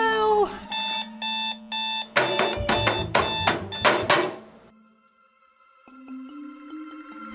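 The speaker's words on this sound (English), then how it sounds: "first my alarm goes off" A morning alarm clock goes off in repeated loud electronic beeping bursts, a quick run of clustered tones, then it fades into quieter, softer chiming.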